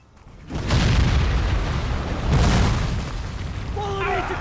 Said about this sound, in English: Yeah, these explosions, yeah.